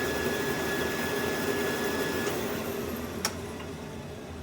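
A constant Rainbow vacuum cleaner motor hum with a thin whine that cuts out partway, followed by a brief click as the droning continues slightly softer.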